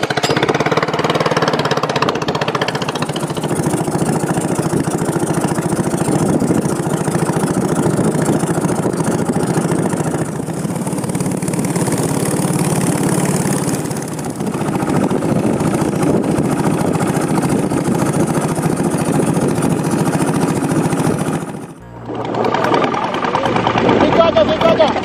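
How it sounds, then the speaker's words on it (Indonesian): A boat engine idles with a steady, loud mid-range chugging drone close by, running continuously with a brief dip near the end before picking back up. "Bapak Ambo lagi menyalakan mesin nih"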